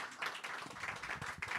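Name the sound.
audience round of applause for author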